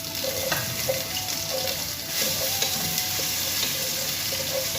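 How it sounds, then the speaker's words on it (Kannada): Onions fry in a pan for chicken sukka with a steady, close sizzle, while a spoon scrapes and taps against the pan a few times, and nobody speaks. "ಈರುಳ್ಳಿಯನ್ನು ಸೇರಿಸಿ ಚೆನ್ನಾಗಿ ಫ್ರೈ ಮಾಡ್ಕೋಬೇಕು"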